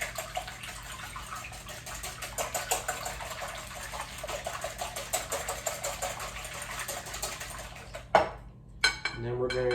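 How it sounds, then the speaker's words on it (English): Eggs being beaten with a whisk in a bowl for bread pudding, a fast rapid clatter of metal against the bowl running steadily, ending with a few louder knocks and scrapes. "So we're going to whisk these, beat these eggs."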